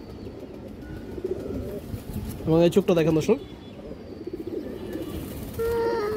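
Old Palla-line brand pigeons, including a large hen, coo softly and repeatedly in the background while someone talks close by over them.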